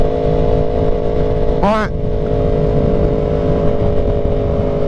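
Yamaha R1M sport motorcycle riding at night, a steady engine drone with road and wind noise throughout and a brief rising whine near the start, while a voice talks over it.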